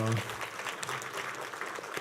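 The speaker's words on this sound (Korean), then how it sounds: "큰 박수 한번 네, 큰 보내주십시오. 박수." A church congregation claps together, a dense, steady wash of applause filling the room right after a brief spoken word at the start.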